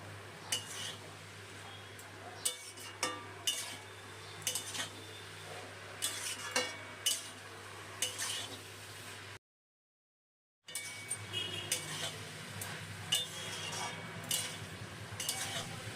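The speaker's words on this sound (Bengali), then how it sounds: "এখন এই গুঁড়ো মশলাগুলো সবজি আর শাকের সাথে মিশিয়ে নিয়ে কষিয়ে নেবো" Spice powders being stirred and sautéed with vegetables and mustard greens in a pan for a mustard-greens chorchori with radish, broad beans and lentil dumplings; steady scraping and soft clinks over a low sizzle, with a brief silent gap midway.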